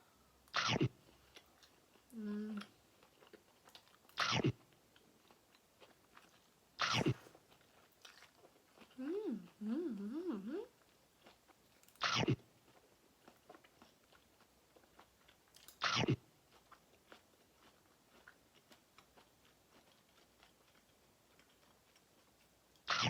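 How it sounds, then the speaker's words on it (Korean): Someone eating chicken breast stir-fried in soy sauce with cabbage and small potatoes, soft chewing against a quiet room, broken by several sharp, loud knocks at irregular intervals and a couple of brief vocal sounds. "간장에 볶아왔어요."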